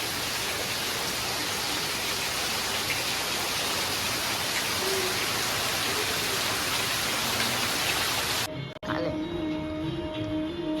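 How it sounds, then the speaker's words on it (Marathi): Heavy monsoon rain pours as a dense, steady hiss for most of the stretch, then abruptly gives way to a quiet indoor space with faint tones. "भरपूर मुसळधार पाऊस पडतोय"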